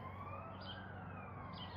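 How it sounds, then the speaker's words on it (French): An ambulance siren wails in the distance outdoors, near a place where a foal is being groomed. Its tone rises and falls steadily, faint but continuous, over a low rumble of background noise. "Je ne peux pas empêcher les ambulances de faire du bruit, malheureusement."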